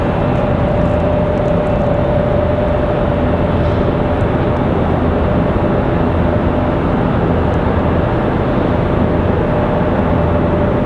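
An ATR turboprop aircraft at Raleigh Durham International Airport gives a loud, steady, broadband engine roar with a constant tonal whine throughout, heard alone without talk.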